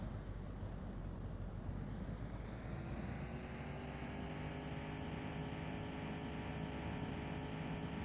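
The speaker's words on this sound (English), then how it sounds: "back to driving and the engine noise for you guys" Steady engine drone of a car being driven in The Long Drive video game, a continuous low hum with rising harmonic tones as it accelerates, alone with no talk.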